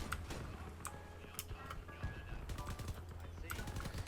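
Vehicle-mounted guns in the combat game Crossout fire in rapid automatic bursts with scattered single shots, a busy clatter that runs under someone talking.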